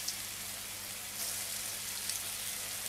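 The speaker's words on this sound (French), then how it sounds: "nos falafels sont en train d'être frits" Chickpea falafels frying in hot oil over lowered heat, a steady soft bubbling hiss with fine crackles, fairly faint and continuous with no talk.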